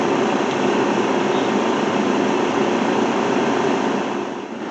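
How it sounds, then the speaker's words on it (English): A laser cutter's fume extractor and air compressor run together in a workshop, making a loud, steady broadband whoosh and hum that holds constant before dipping slightly at the end, with no voices. "you do need to make sure that the fume extractor and the compressor are on"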